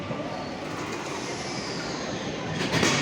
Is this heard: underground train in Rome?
yes